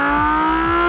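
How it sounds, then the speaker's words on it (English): Lamborghini Huracan Evo V10 engine holds a loud, high, steady revving note with strong harmonics, briefly dipping and recovering twice in under a second, with no talking. "The engine is as close as physically possible to the rear wheels, along with a very unique Lamborghini sound."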